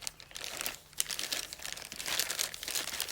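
Plastic mailer bag being cut open during an unboxing, with continuous close crinkling and crumpling of plastic film over about three seconds and a brief pause near the middle.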